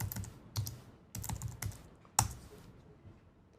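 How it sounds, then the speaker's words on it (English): A computer keyboard typed on while entering a search into MATLAB Help, with short bursts of quiet, close key clicks separated by brief pauses. "I can just type that into the Help navigator"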